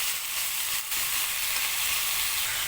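Chinese mixed vegetables sizzle steadily in a pan while being stirred, a continuous close frying hiss with a brief dip partway through and no talking.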